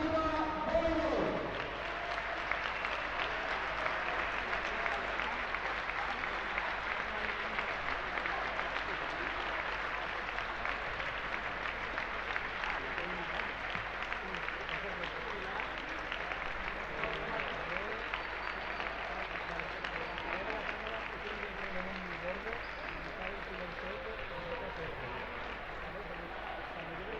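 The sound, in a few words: audience applauding the Xàtiva Voleibol women's team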